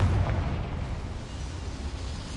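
A Confringo fire spell explodes in the Hogwarts Legacy video game inside a small mine, heard as a dense, heavy rumbling blast that fills the short stretch with a steady roar.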